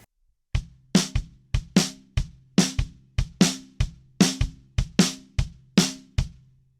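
A drum kit plays the verse sequence of a well-known song, a close, loud pattern of kick and snare hits with crisp cymbal wash in a steady groove, heard alone.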